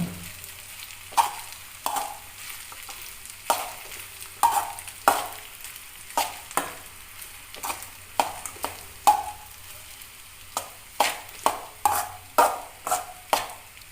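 A spatula stirs egg into fried rice in a hot pan, with a steady run of scraping knocks against the metal over a constant sizzle and no speech.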